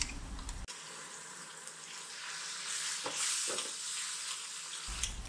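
Ground tomato pours into a hot pan of egg curry gravy, and a steady sizzle takes over after a brief clatter, with a couple of soft stirring knocks partway through.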